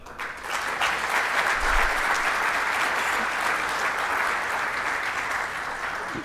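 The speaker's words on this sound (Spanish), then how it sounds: "Despidamos a nuestros expositores y moderador con un fuerte aplauso." A symposium audience at an international security and defence event gives a strong round of applause, continuous and fairly loud, with dense clapping that holds steady throughout.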